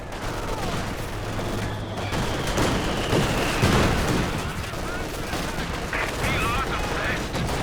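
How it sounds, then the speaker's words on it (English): Mortar fire in a Company of Heroes 2 1v1 match: dense, continuous battle noise of booming shots and crackling gunfire layered together at a steady loud level. "Mortar's doing pretty good though."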